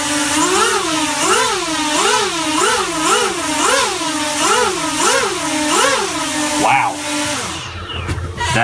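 Motors on a 3D-printed quadcopter drone whine steadily and loudly, pitch wavering up and down in a regular rhythm as the throttle is worked, then cutting off near the end.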